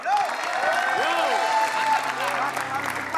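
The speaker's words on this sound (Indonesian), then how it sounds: "Tepuk tangan dulu yuk" Steady applause from a crowd fills the clip, with scattered whoops and bright rising tones riding over the continuous clapping.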